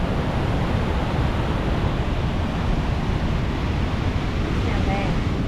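Powerful rushing water of a waterfall going over the edge roars in a dense, unbroken wash of noise, loud and close, with no voices over it.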